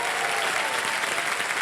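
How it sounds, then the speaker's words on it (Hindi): Studio audience applause on a televised quiz show, a dense, steady wash of many hands clapping at even loudness throughout, with no voices above it. "एक बार फिर तालियां बज जाए।"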